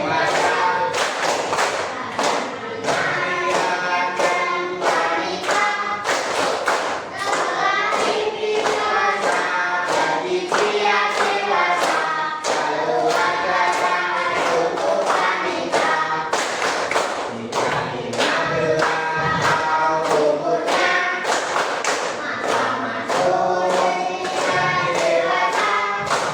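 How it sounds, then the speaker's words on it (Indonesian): A group of people clap their hands together in fast, loud, rhythmic bursts at a coming-of-age celebration, the sharp claps dense and close with occasional voices mixed in. "Coba kita bertepuk tangan ria."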